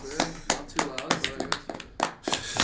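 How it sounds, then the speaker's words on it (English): A small, sparse round of clapping from a few people welcoming a guest onto a casual podcast episode: scattered close hand claps with voices talking over them. "Let's give a round of applause"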